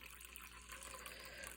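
Liquid pours steadily into a pot while kombucha is being made, a continuous close gushing and splashing stream with no talk.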